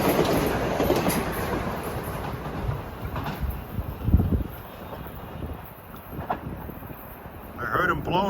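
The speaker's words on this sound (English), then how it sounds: "I can hear the holiday train." Metro-North holiday special passenger train approaching near Botanical Garden, a rumbling rail roar with clickety-clack wheel beats and wind buffeting the microphone, growing louder, with a horn-like tone near the end and someone talking.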